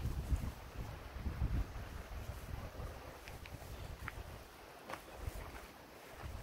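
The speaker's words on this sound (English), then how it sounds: "The wind is blowing from the east." Wind gusting at a lakeside campsite, a faint, rough rumble of moving air buffeting the surroundings in uneven swells, with no voices.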